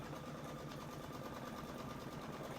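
A Solaris 2 embroidery machine stitches a border in a magnetic frame, a steady, fast mechanical whir and buzz holding even and constant throughout with no voices.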